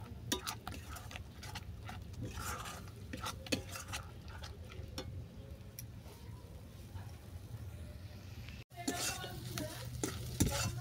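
Cauliflower stem and soybean mash stir-fried in a pan: repeated close scraping and stirring strokes over a soft sizzle, with a brief dropout near the end, and no clear talk.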